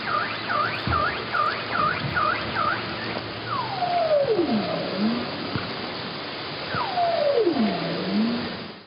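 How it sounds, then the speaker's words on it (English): A bowhead whale sings, long sweeping calls sliding down like a police siren, repeated twice, after a run of short rising chirps, heard underwater against a steady noisy background. "That was a bowhead whale singing. And actually, we called this song type as the police siren sound."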